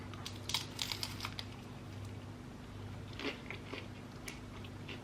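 Crisp crunching and biting while eating, a series of close, sharp crackly bites and chews over a low steady hum, no talking.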